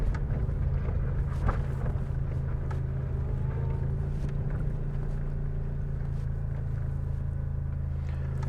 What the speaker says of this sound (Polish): Teraz jak stanęliśmy, agregat słychać mocniej